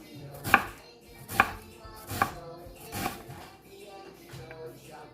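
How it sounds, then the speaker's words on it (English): Knife finely dicing half a large onion and garlic cloves on a cutting board, four crisp evenly spaced chops close up, then quieter scraping. "I'm going to cut it as fine as possible so it can be easily sauteed"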